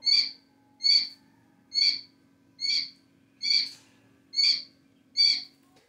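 Coturnix quails calling loudly at night, seven evenly spaced shrill calls repeating at a steady rhythm, close and clear over a faint steady hum.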